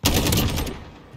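Gunshots in Modern Warfare ring out as a loud, rapid burst of automatic fire for about half a second, then cut off into a short decaying tail.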